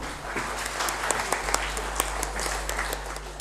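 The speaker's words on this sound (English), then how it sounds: "Please welcome sir with a big round of applause" Audience at a GST conclave applauding the arrival of the chief guest, an IAS Commissioner of Commercial Tax for West Bengal; steady, moderately distant clapping from a hall crowd with a few sharper nearby claps and a low hum underneath.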